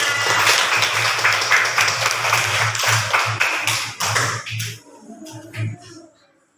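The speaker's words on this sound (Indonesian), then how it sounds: "Tepuk tangan untuk kita semua." A classroom of students claps together during a morning lesson, a dense, steady patter of many hands for about five seconds that then thins into a few scattered, fading claps.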